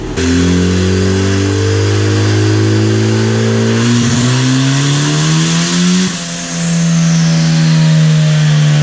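Turbocharged Mazda Miata engine in a kart with about 230,000 miles, revving hard on a dynamometer pull, loud and close, its pitch climbing steadily, dipping briefly and climbing again, with no talking.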